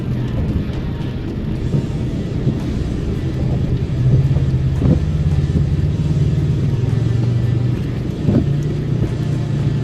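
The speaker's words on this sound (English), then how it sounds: "Full-size truck coming." A full-size truck's engine drives past in wet, rainy off-road conditions, a steady low rumble that swells midway and stays close and fairly loud throughout, with no talk over it.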